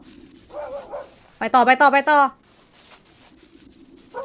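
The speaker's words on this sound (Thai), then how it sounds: "นี่เสียงหมานะ" A few dog barks from the indie game Urayama play early on, then a voice talks rapidly and repeats a short phrase, with faint game noise underneath.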